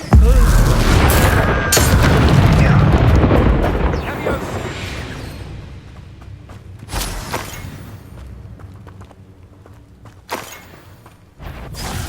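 A Confringo blasting curse explodes in the Hogwarts Legacy video game: a loud, rumbling burst that fades, followed by a few sharper impacts and pops amid combat effects.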